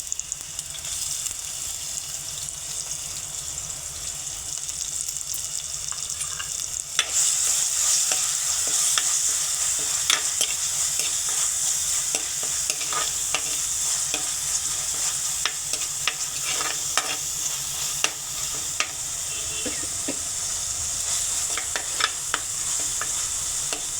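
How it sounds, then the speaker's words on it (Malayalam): Ginger, green chili and garlic sizzle in hot oil in a pan, a steady crackling fry with intermittent stirring scrapes throughout, close and alone. "എണ്ണ നന്നായിട്ട് തിളയ്ക്കുന്നുണ്ട്. അപ്പോൾ നമുക്ക് ഇഞ്ചി, പച്ചമുളക്, വെളുത്തുള്ളി ഇട്ട് കൊടുക്കാം."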